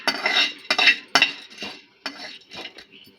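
Poppy seeds are dry-roasted in a pan for prawn pickle, a spoon scraping and clinking against the metal in several quick separate strokes, close and clear with no talk.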